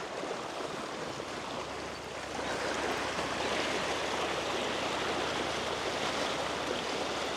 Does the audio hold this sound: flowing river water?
yes